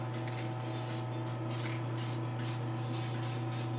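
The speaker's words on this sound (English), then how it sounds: "We're going to spray this down." Short bursts of hissing spray from an aerosol can, several quick pulses in a row over a steady low hum, close by.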